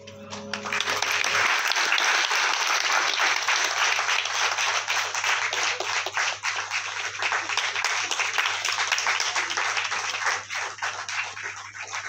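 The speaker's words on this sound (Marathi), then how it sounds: "एकदा हिमांशू काकांसाठी जोरदार टाळ्या" Loud, sustained applause from an audience at a poetry recital, dense clapping rolling on steadily for about twelve seconds with no speech over it.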